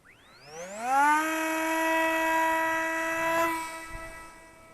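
A Flybear FX-820 SU-35 RC parkjet converted to a brushless motor spools up into a high, rising electric whine that levels into a steady tonal drone, then dips briefly as it flies past.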